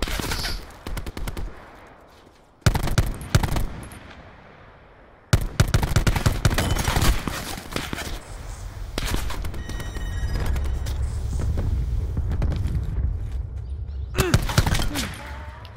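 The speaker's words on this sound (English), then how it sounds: "I'm getting shot at." Gunfire in the battle-royale mode Blackout of Call of Duty Black Ops 4: loud bursts of automatic fire and scattered single shots in a busy firefight, with brief quieter gaps between volleys.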